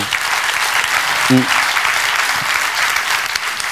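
An audience at a talk breaks into steady, dense applause, a continuous wash of clapping from a crowd that stays fairly even in loudness for a few seconds, with no voices on top.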